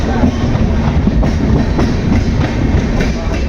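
Vivek Express passenger train running at speed through Assam, a loud steady rumble with rhythmic clickety-clack of wheels over rail joints, heard close from inside the carriage.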